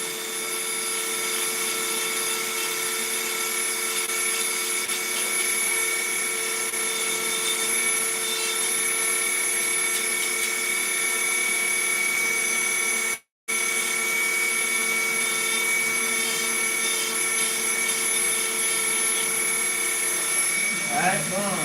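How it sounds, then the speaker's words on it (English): A Dremel rotary tool grinds high spots off a part during a TRX2.5 rebuild, giving a loud, continuous high-pitched whine close by that runs unbroken except for one brief cut near the end. "So on the high spots, just take them off with the Dremel."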